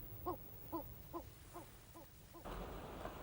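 Shearwaters call at a breeding colony on Montaña Clara in the Canary Islands, six evenly spaced, wavering hoot-like calls against soft wind before a louder rush of wind noise.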